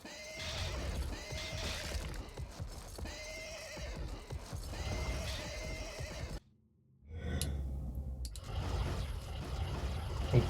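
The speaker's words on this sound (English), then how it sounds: "It's a lot of donkeys." Donkeys bray and whinny in the real-time strategy game Armies of Exigo, in repeated loud calls over a busy game soundscape, with a brief drop to near silence before the calls resume.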